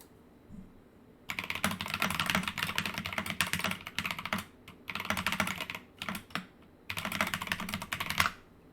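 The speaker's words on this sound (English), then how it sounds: "this keyboard sounds so fucking cool" Typing on a computer keyboard, close and crisp, in three long bursts of rapid clicking with short pauses between, and no one talking.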